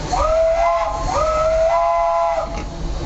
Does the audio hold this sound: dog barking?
no